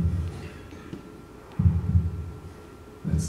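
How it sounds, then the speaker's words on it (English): A child's heartbeat played back within a song: deep, muffled low thumps arrive in separated pulses against a soft hum, loud and close, with no talking. "That's the heartbeat of your beautiful child."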